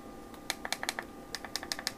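Physical buttons on Beats Studio 3 wireless headphones clicked repeatedly, giving a quick irregular series of small, sharp, close clicks over a quiet background.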